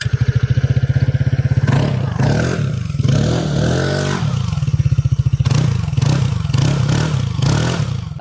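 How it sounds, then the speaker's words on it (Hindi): TVS Ntorq 150 scooter exhaust rumbles at close range with a steady pulsing idle, broken by a few short throttle blips that rise and fall. "इसके एग्जॉस्ट साउंड सुनाना तो बनता है।"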